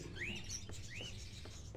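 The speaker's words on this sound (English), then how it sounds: "Are those crows in the cages?" Caged crows in Fahrenheit: Indigo Prophecy give two short, rising calls about a second apart, faint over a low background hum, with no voices.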